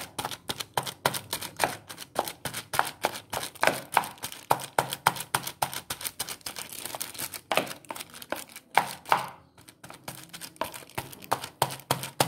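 Rapid, steady pounding thuds, close and repetitive, as bananas for martabak are crushed in a mortar with a pestle, with a brief pause partway through.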